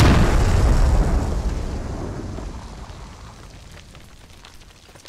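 An IED detonates in the military shooter Squad: a loud, deep, rumbling blast that slowly decays into a long debris-filled roar over several seconds.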